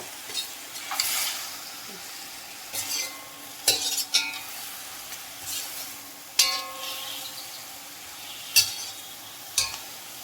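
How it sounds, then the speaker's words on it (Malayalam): Moringa leaves cooking in a pan for a Kerala stir-fry, with a soft continuous sizzle broken by occasional sharp clinks and scrapes of a spoon stirring against the metal, nearby and fairly quiet. "നല്ലപോലെ ഇളക്കി കൊടുത്ത ശേഷമാണ് ഇത് അടച്ച് വെക്കുന്നുണ്ട് കേട്ടോ"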